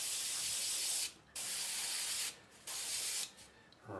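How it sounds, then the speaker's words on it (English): Mild varnish sprayed from a can onto painted scale-model metal plates, heard as three steady hissing bursts with short pauses between them and no talking. "I'm just using a mild varnish. Just spray it on a little bit, not too much."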